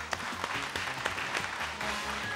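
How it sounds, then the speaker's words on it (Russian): Studio applause for a lottery win on a televised Russian Lotto draw, modest clapping alongside music with a few sharp accents. "Да, я думаю, что этот выигрыш достоин аплодисментов."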